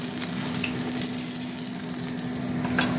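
Fish frying until crisp in oil in a pan, a steady close sizzle with faint popping and a constant low hum underneath, no voices.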